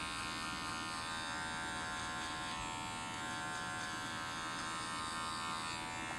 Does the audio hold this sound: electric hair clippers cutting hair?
yes